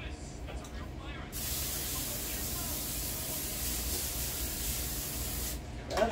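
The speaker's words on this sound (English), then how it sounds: "I'm going to put some foil on it and spray it" Cooking spray hisses onto a foil-lined pan in a home kitchen, a steady close spray lasting several seconds before stopping with a small clatter.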